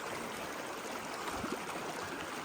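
River water flows steadily and close by as a group wades upstream, walking boats against the current, a continuous wash of broadband noise with a brief splash near the middle.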